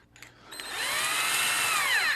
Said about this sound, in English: Otherwise, I could use a drill.